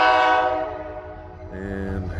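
An ELS freight train hauled by locomotives 503 and 400 rolls past, a loud chord horn blast fading out, then a second, softer horn sounding over the rumble of the train.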